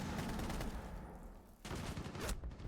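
A burst of gunfire fired through a wall in the tactical shooter Rainbow Six Siege during a collegiate esports match, with rapid, dense shots, a brief lull, then another loud volley.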